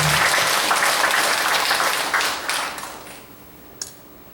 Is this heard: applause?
yes